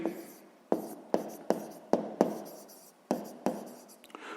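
Pen strokes on paper while a sixth-grade math solution is written out, a string of sharp scratchy taps and short rubbing strokes in an irregular rhythm, close and clear with no talk.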